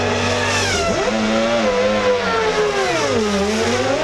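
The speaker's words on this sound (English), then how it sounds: "You can hear the misfiring engine" A misfiring 1995 Formula One car engine, its high harmonic whine dipping and rising in pitch, loud and continuous with no talking.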